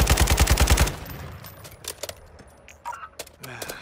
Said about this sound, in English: There's somebody shooting.